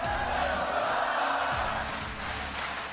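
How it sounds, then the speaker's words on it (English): A large San Francisco crowd at a League of Legends World Championship esports match chants and roars continuously for Cloud9, a steady mass of voices filling the arena. "The San Francisco crowd chanting, "Let's go Cloud9,""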